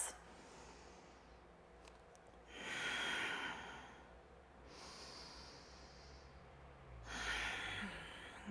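Slow, deep breaths during a gentle yoga pose, each inhale and exhale swelling as a soft, airy rush before fading, with about two long breath cycles heard up close and no talking.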